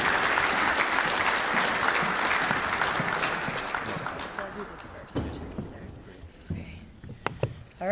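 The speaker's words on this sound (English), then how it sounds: "How about a round of applause for Ms." Applause from an audience at a Life After Sports event for speaker Jessica Kemp, steady at first, then thinning into scattered claps with a few voices and movement in the room.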